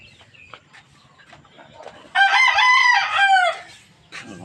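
A rooster, one of a farm flock of broodcocks and hens, lets out a single loud, close crow of about a second and a half, with softer clucking and scattered faint noises around it.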